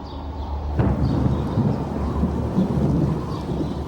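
A sharp thunderclap breaks out, then rolling thunder rumbles on under steady heavy rain during the midsummer rains of ancient Egypt.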